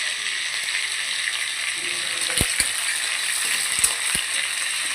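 Onions and cumin sizzle steadily in a hot pan at home, a continuous frying hiss with a few sharp clinks and scrapes of stirring around the middle and near the end; no talking.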